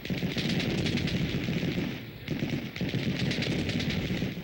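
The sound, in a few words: machine guns and rifles firing in a battle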